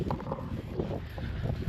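Strong wind buffets and roars across the microphone in continuous gusts on the Belgian coast at Nieuwpoort, with a faint background rumble and no voices.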